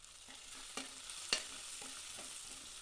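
Onions and garlic frying in oil as they are stirred, a faint steady hiss of sizzling broken by a few light utensil clicks and one sharper clink, close but quiet, with no talking.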